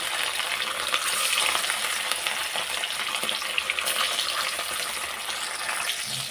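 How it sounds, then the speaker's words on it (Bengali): Rohu fish pieces fry in hot oil for a malai curry, giving a steady, loud, dense sizzle that carries on without a break, with no voices over it. "তেল গরম হয়ে গেছে, এবারে আমি মাছগুলোকে ছেড়ে দেবো"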